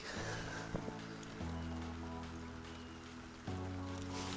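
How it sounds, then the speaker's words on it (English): Wind-driven rain falls steadily on a winter fishery pond at Elvington, a continuous hiss of drops on surface and gear with low humming tones underneath and a brief clatter near the start. "To top it off, the wind's blowing the rain in at me."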